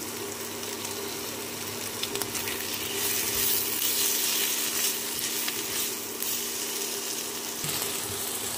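Chopped tomato hits a pan of spiced katla fish curry with potatoes, giving a continuous close sizzle that swells briefly in the middle before settling.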